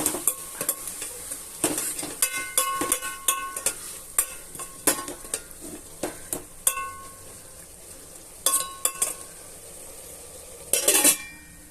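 Chukka kura greens being stirred in a cooking pot, with repeated clinks and scrapes of a metal spoon against the pot over a soft sizzle, loud and close, no voices.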